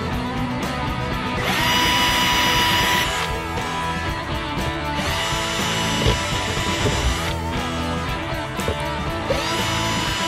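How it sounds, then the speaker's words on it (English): A power drill whines steadily through several bursts while drilling drainage holes in a table, its motor pitch rising and falling as it bites into material, loud and close. "I think I'm going to drill a few holes in it. Drainage holes."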